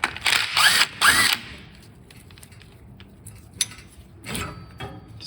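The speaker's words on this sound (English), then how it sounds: "now we're gonna get these hand bolts out so I can get the shift cable off" Hand ratchet clicking rapidly in short bursts while loosening bolts from the shift cable of a 1971 Pontiac GTO 455, two loud close runs at the start, then quiet with a faint click and a softer final burst.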